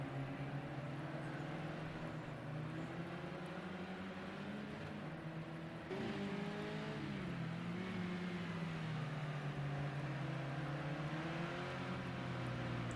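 Race cars driving in a racing video game, a sustained engine drone with shifting tones, several cars running together at steady volume, one pitch jump midway as an engine shifts.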